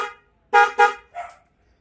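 Car horn on a modified vehicle honks three times in quick succession, two close loud beeps followed by a shorter, softer one, alone and near.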